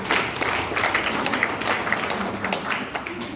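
Audience applause for Khushboo madam at a DXN youth training session, a steady dense patter of many hands clapping throughout with some faint voices mixed in.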